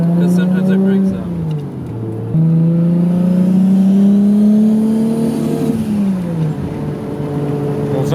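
Turbocharged Lexus SC300 engine running loud and close, a steady rough drone whose pitch rises and falls with small revs over several seconds.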